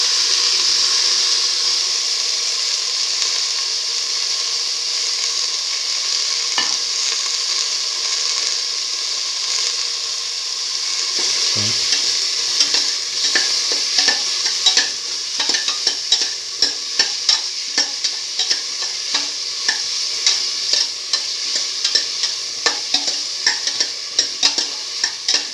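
Watermelon pieces frying in a pan, with a steady sizzle and repeated scraping stirring strokes that grow busier and more rhythmic partway through, close and without talk.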